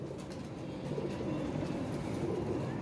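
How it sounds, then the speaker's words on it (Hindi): Pigeons coo softly in a loft, low murmuring calls repeating under faint background noise, fairly close but quiet. "नया कबूतर है जी"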